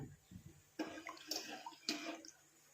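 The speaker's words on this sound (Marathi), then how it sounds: "तर बघा आपल्या सांबारला उकळी आलेली आहे खळखळून एकदम" Sambar boils vigorously in a pot on the stove with soft, uneven bubbling and gurgling bursts, faint overall with a couple of louder surges.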